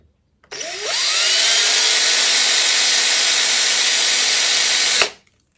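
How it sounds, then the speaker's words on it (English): A power drill bores deeper into a guitar fretboard for a Back to the Future guitar build: one loud, steady whine that spins up quickly, holds for about four seconds, then stops abruptly. "I can take the drill once the thing's out the way, and I can drill that just a little bit deeper."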